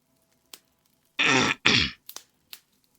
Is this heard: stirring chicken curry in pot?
no